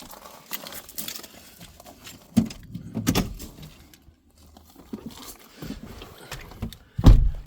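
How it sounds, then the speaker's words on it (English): Keys jingle and clatter in short bursts as someone climbs into a Volkswagen California Ocean camper van, with thuds and rustles between the louder jangles and no talking. "I'll just grab the keys"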